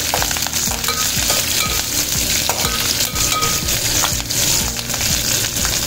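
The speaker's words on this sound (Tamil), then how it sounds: "பச்சை மிளகாயும் சேர்த்துருவோம், கருவேப்பிலையும் சேர்த்துருவோம். சேர்த்து நல்லா கிண்டி" Green chillies and curry leaves being stir-fried in a pan of hot oil for a lady finger and egg masala, a loud continuous sizzle with repeated scraping and clinking of the spatula, with no talk.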